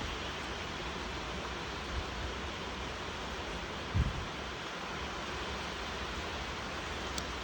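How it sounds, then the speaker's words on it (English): Rain falls outside a workshop as a faint, steady hiss, with a couple of soft thumps nearby. "Sorry about the rain."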